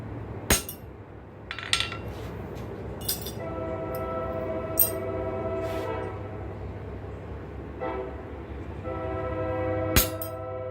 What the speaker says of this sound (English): Trains coming by.